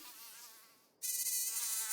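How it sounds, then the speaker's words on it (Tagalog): Flies buzzing in the open near something rotting, a thin whining drone that fades, cuts out and then returns louder and close, continuous with no voices. "mas mabuti sigurong alamin natin kung saan ang galing yung pinagkakaguluhan ng mga langaw. Kanina ko pa naririnig eh."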